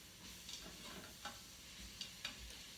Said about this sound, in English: 3/4 an onion, saute that a little bit in the bacon grease